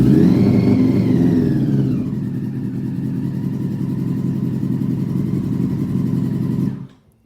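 A Yamaha R6 sport bike engine swapped into a Raptor ATV runs steadily and loudly up close, its revs easing slightly after two seconds, then it cuts off abruptly near the end.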